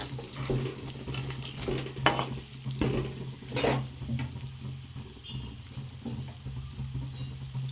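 Marinated mutton pieces fry in a pan in a home kitchen, a low sizzle under intermittent stirring and scraping knocks of a utensil against the pan, with a steady hum in the background.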